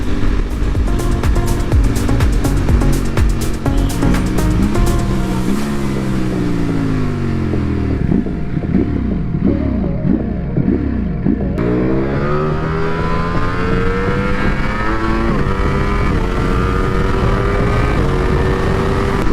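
A sport motorcycle in sport mode revs hard and loud and close, its engine note climbing and dropping through repeated gear shifts and rising again as it accelerates, with heavy wind rush throughout.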